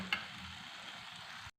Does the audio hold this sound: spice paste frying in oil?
yes